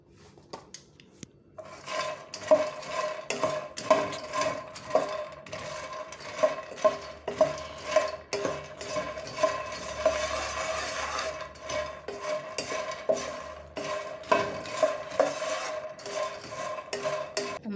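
Dry lotus seeds rasping and rattling against a metal pan as they are roasted and stirred continuously, a steady scraping texture with rhythmic pulses.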